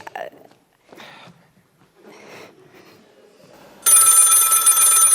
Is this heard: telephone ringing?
yes